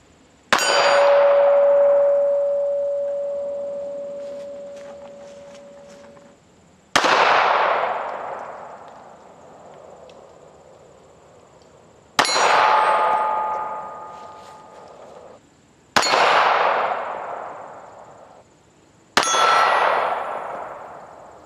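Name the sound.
Smith & Wesson Bodyguard 380 pistol shots hitting metal targets at 20 yards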